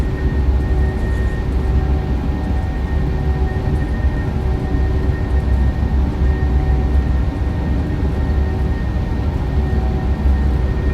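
Boeing 737-800 jet engines roar steadily at takeoff thrust during an American Airlines departure from Dallas, a dense, loud, unbroken rumble with faint tonal whine on top.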